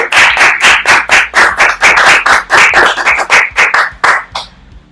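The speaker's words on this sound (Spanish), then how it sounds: "Dale un aplauso al que vive." A church congregation claps in a strong, even rhythm, about a dozen loud sharp beats per few seconds, fading out near the end.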